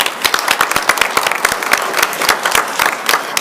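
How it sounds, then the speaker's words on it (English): A room full of people at a city council meeting claps steadily, loud and close, a dense continuous round of applause with no voices. "Let's give her a round of applause."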